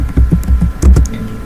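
Keys clatter on a computer keyboard as a command is typed into a Linux terminal, in short irregular bursts of close, crisp taps.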